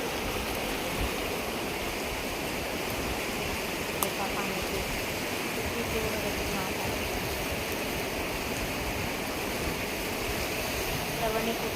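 Fast-rushing floodwater roars continuously and loudly at close range, a dense, unbroken churning wash, as it submerges farmland and houses.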